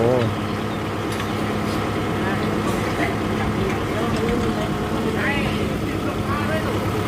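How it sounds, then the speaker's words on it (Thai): A Kubota MU57 tractor engine idling steadily nearby, a low continuous rumble that runs under someone talking throughout. "รถไถคันใหม่"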